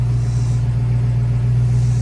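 Steady low rumble from a 1966 Bullitt Mustang's engine on a test drive, a constant deep drone at even loudness for a brief stretch, with no voices over it.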